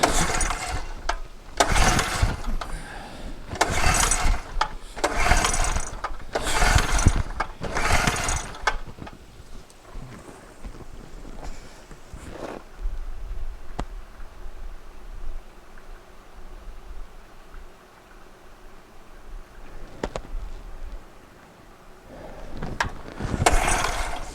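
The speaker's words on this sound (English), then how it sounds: "normally this would not take as many pulls to start, but it is new and there's no fuel in the system, so I'm basically priming it" A new portable generator, not yet fuelled, is pull-started: about six quick, loud rope yanks with ratcheting rasps come in a row, a quieter pause follows, and one more pull sounds at the end without the engine catching.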